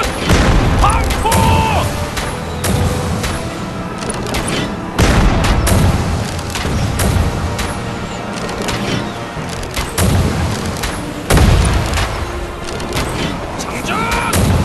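Joseon naval cannons fire in a Korean battle at sea, heavy booms landing in repeated bursts over dense, roaring battle noise while voices shout commands in rhythm between volleys.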